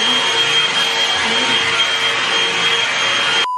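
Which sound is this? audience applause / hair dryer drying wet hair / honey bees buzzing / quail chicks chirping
hair dryer drying wet hair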